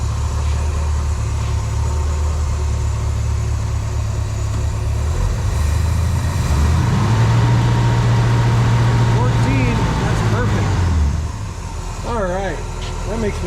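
A vintage vehicle engine revs up over a steady idle and then settles back down, loud and close, with the mechanical noise continuous throughout the clip.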